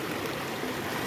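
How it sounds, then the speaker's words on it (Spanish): A small creek flows in the rain along a narrow path, giving a steady, dense rushing and trickling wash of water that fills the short stretch without voices. "Ya vamos llegando el arroyito o el río o el agua, como lo quieren llamar"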